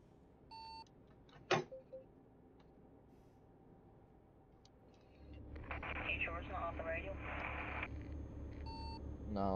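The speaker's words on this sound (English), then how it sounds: "I keep on getting a noise like every time I break the speed limit." In the Euro Truck Simulator 2 video game, short electronic warning beeps for exceeding the speed limit sound faintly early on, then a steady truck engine drone rises and persists beneath it.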